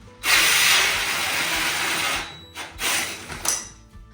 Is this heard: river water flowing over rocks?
no